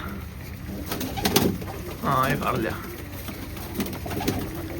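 Pigeons coo softly in short bursts beneath close conversation, with rustling and handling noises nearby.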